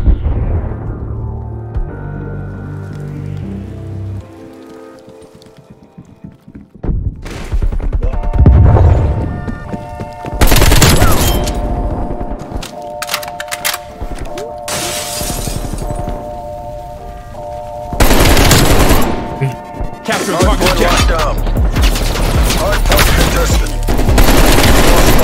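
Automatic gunfire from an AK-47 assault rifle in the video game Black Ops Cold War, loud rapid bursts and sustained sprays broken by short gaps, with shattering impacts, close and dominant throughout.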